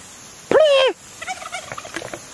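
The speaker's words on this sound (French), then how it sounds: "Ça c'est mon ami le dindon." Close up and loud, a turkey lets out a single sharp gobble, then a string of quieter, scattered chuckling notes follows.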